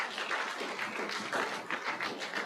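An audience at an announcement event in a building applauds: quiet, dense clapping that runs evenly through the short stretch with slight swells, no voices.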